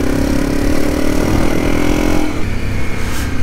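A trail motorcycle being ridden through mud roars loudly and steadily at high revs, the pitch easing and dropping off toward the end.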